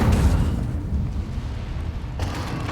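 An Incendio fire spell goes off in Hogwarts Legacy, a deep rumbling burst with a fiery roar that sustains low and heavy for a couple of seconds, then a fresh crackle near the end.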